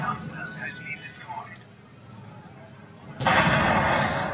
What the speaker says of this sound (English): So Dan has deliberately destroyed his vehicle so that they can't take it.